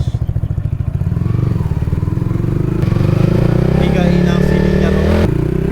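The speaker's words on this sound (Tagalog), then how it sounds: "higain ang silinyador." Yamaha XSR155 scrambler motorcycle engine revving up close, a low throbbing idle that climbs into sustained higher-pitched revs, steady and loud for several seconds.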